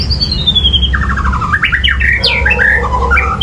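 A young magpie robin (murai) sings alone in bright, rapid whistled phrases that slide and warble over a steady low background hum.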